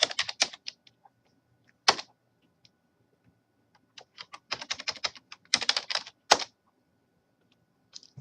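A password is typed on a computer keyboard in a quiet room, with irregular clusters of close, crisp keystrokes separated by short pauses.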